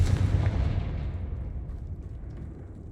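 A Confringo fire spell blast in the Hogwarts Legacy video game lands as a deep, booming explosion that rumbles loudly at first, then trails off into a long, fading roar.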